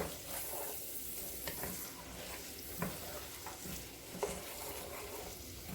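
Cabbage, jalapeños and shallots fry in a pan with a steady, close sizzle, broken by a few soft stirring knocks; no one speaks.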